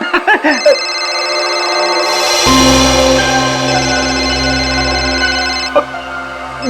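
A telephone rings loudly and steadily for several seconds in an indoor scene from a Hindi crime drama, with a brief voice murmur before the ringing begins.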